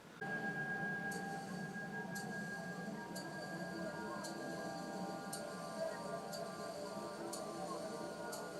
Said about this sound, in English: Can he hear the watch ticking?